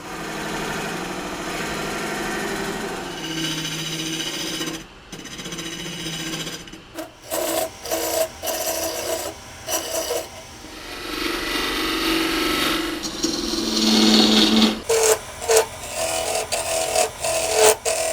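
A homemade carbide turning tool is touched up at a wood-turning setup with a midi lathe, giving irregular scraping and rasping bursts that stop and start over a steady mechanical background.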